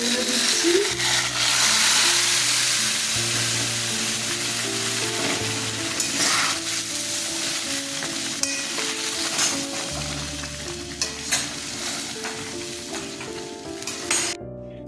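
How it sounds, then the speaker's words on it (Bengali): Chillies frying in a pan for a radish and biulir dal, with a continuous close sizzle and occasional stirring scrapes and clinks, steady and fairly loud with no voices. "লঙ্কাগুলো দিচ্ছি"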